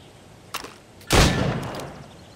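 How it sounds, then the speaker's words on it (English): Gunshots ring out during target practice in the video game Assassin's Creed Rogue: a sharp crack, then a louder, fuller blast about half a second later that trails off slowly. "Go on. Shoot these targets."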